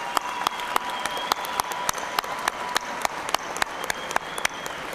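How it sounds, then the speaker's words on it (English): A commencement audience at a spring university graduation ceremony gives a round of applause, a broad wash of hands with sharp, distinct claps from nearby people popping out in an irregular rhythm for the full five seconds. "please join me in showing your appreciation for those very important people in your lives with a generous round of applause"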